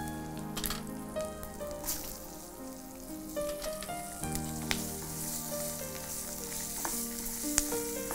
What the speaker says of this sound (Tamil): ஹை ஃப்ளேமில் தான் வச்சு நான் வறுக்கிறேன்